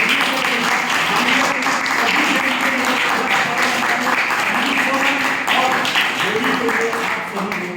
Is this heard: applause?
yes